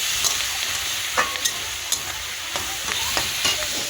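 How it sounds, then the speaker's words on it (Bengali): A constant close-up hiss of leafy greens frying fills the clip, broken by light, irregular taps and scrapes of a spatula moving them around the pan. "শাকটা ভাজা করছি"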